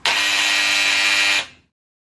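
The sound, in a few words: old electric hair clippers buzzing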